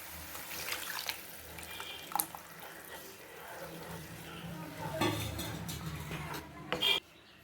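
Tamarind water is poured into a pot with a soft splashing, gurgling wash, followed by faint sizzling and a few clinks from nearby.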